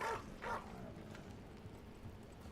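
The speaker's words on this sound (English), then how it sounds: "that doggy is the one barking" A dog in a video game gives two quick, faint yips close together, followed by quiet background ambience without voices.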